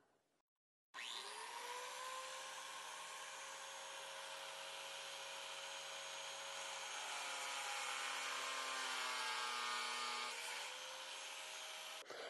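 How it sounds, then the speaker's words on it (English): A 4.5-inch angle grinder mounted on a chop saw stand spins up and cuts, making a loud, steady high whine with grinding rasp that holds for about eleven seconds before winding down, with no talk. "Let's turn the angle grinder on and see how this works."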